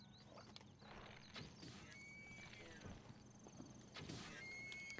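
Horse hooves clip-clop and a horse neighs in a Zelda video game, with steady game music and ambience running throughout and a few brief high chimes over it.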